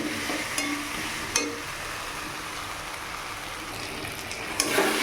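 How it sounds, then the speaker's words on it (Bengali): Spice paste fries in oil over a low flame for a koi fish curry, a steady close sizzle broken by a few sharp clinks of stirring. "মশলাটা আস্তে আস্তে কষাবো।"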